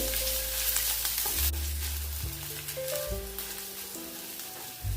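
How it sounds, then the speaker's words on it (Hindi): Crushed ginger-garlic paste sizzling steadily in a pan while a soft semolina breakfast snack is cooked, a loud continuous crackle throughout with faint steady tones underneath and no speech. "साथ में डालेंगे अदरक लहसुन का कूटा हुआ पेस्ट। अच्छे से इसको मिक्स कर लेंगे और थोड़ी देर इसको भूनेंगे।"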